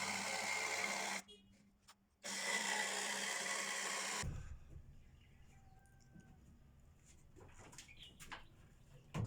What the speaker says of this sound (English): here I'm trimming one of the rafters, which will be used for framing on the roof